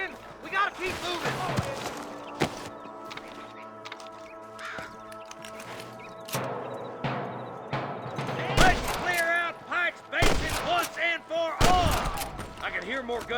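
Video game gunfire in Red Dead Redemption: several sharp gunshots crack in scattered bursts over music and effects, with voices talking in between.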